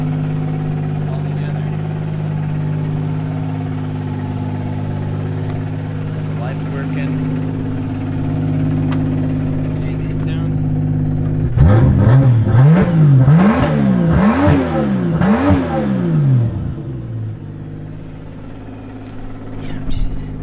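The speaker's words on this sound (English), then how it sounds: "I also cut off the muffler. Just a little bit louder now." A 2JZ-swapped 2015 Ford Mustang with its muffler cut off idles with a deep steady drone, then revs hard several times in rising and falling bursts, loud and close.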